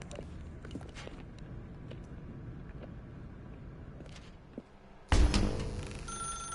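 A telephone rings loudly and suddenly in The Stanley Parable video game, a bright ringing tone cutting in near the end after a stretch of quieter room ambience and faint movement.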